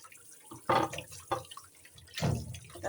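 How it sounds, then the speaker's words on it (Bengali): Water splashing as guavas are rinsed by hand in a home kitchen, a few irregular wet sloshes and pours separated by brief pauses, close and fairly quiet, no talk. "এই পেয়ারা এখন মাখাই খাবো এই যে সুন্দর করে ধুয়ে নিচ্ছি"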